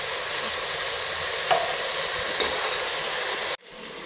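Mushrooms frying with turmeric powder in a pan over a medium flame, giving a steady, loud broadband sizzle with a couple of brief stirring scrapes, cut off abruptly near the end.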